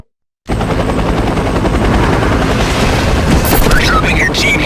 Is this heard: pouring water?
no